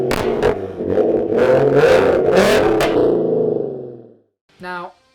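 A Ford Mustang with a Coyote V8 and a crackle and cam-lope tune revs hard in loud, close bursts, its exhaust popping and burbling as it settles, followed by a short separate rev blip.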